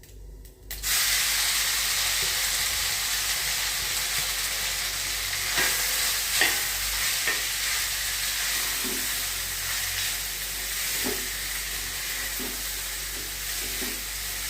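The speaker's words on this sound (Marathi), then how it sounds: "आता मी ह्याच्यामध्ये तो मिक्स करणार आहे।" Tempering is stirred into cooked basmati rice for jeera rice, with a loud continuous hiss of hot oil and spices and scattered soft scrapes of a spoon, heard close and steady with no talk.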